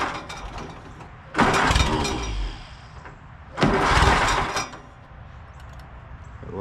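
A 1944 Allis Chalmers B tractor engine tries a cold start, giving two loud cranking bursts close by over a constant low rumble, with quieter mechanical noise in between.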